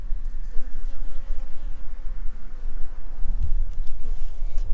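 Bees buzzing around beehives: a steady, close buzz of many insects with a few louder passes, while a person talks throughout.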